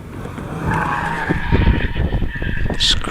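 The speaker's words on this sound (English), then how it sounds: "Tyres squealing. That little front engine, front wheel drive car." Front-engine, front-wheel-drive racing car at the Harewood hillclimb, tyres squealing hard through a corner in gusty wind, a loud sustained screech over engine roar lasting the full three seconds.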